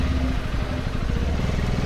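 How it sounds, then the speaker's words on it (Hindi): A KTM motorcycle engine runs at a petrol station before an off-road ride to Ekole Valley near Lonavala, a loud, close, rapid low-pitched chugging that holds steady throughout. "बाइक स्टार्ट करते हैं"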